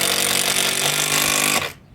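A power drill drives screws at an angle into a wooden shelf joint, making a steady, loud whir that continues for about a second and a half before it suddenly cuts off.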